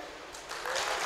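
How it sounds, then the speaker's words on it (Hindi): Applause rises from an audience at an Urdu poetry mushaira in Hindupur, a broad hiss of many hands that swells and grows louder toward the end of the short burst, with no voices. "तालियां"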